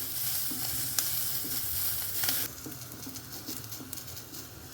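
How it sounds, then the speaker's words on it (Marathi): Onion, coconut and coriander fry in a pan with garlic and cumin, giving a steady close sizzle broken by scraping stir strokes and a few sharp clicks of the spoon against the pan. "सगळं जिनस टाकून भाजून घ्यायचं"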